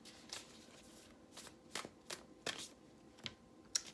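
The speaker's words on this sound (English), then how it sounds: "let's just pull an affirmation card for you." Deck of affirmation cards being shuffled, a series of crisp riffling bursts with short pauses between them, close and fairly quiet, with no talking.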